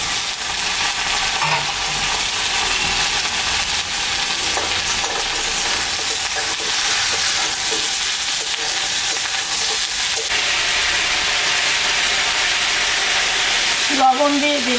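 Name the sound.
potatoes and eggplant frying in a pan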